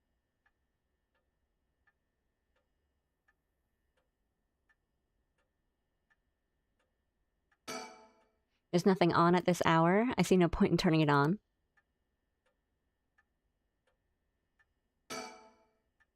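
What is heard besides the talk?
clock ticking in a quiet room, from the video game Paranormasight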